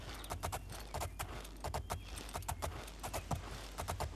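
Horse hooves clip-clopping in a steady galloping rhythm in the video game Oblivion, close and fairly loud, with no talk over them.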